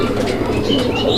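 A pair of fancy Rajgolla pigeons coo softly and continuously at close range, low murmuring calls layered with faint rustling over the whole short stretch.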